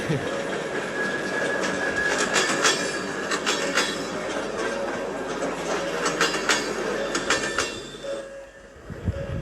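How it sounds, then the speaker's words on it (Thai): A simulated Thai freight train passes the Don Mueang station level crossing in Roblox: a steady rumbling roll with rhythmic wheel clicks and faint squeals that fades away near the end. "รถสินค้า 601 ผ่านจุดตัดสถานีรถไฟดอนเมือง"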